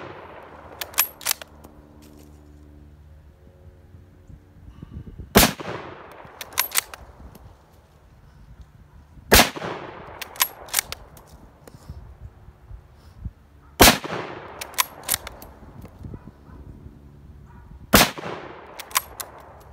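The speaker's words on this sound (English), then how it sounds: "we've got the Yugoslavian ammunition loaded and we're going to give it a try" K98 bolt-action rifle firing Yugoslavian surplus ammunition outdoors, five loud sharp shots spaced a few seconds apart, each followed by a decaying echo and metallic bolt-working clicks between shots.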